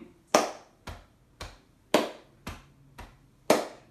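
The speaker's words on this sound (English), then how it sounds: "So if I go clap, chest, chest." Body percussion with a hand clap followed by two chest slaps, repeated twice: six sharp close hits in a clap-chest-chest pattern, with the claps brighter and the chest slaps duller.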